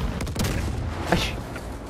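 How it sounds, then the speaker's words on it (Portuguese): Airplanes exploding in the Far Cry 5 video game: a quick burst of booming, gunfire-like blasts, loud and close, followed by a brief crackling tail. "O avião explodiu. Explodiu com o nosso avião e com o avião do inimigo."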